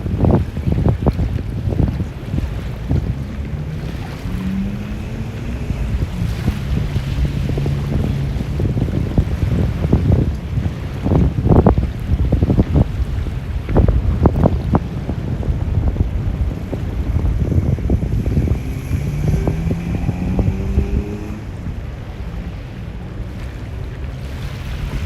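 Steady wind at Ala Moana Beach, Oahu, Hawaii buffets the microphone with low rumbling gusts, over a background wash of waves and water, with no voices.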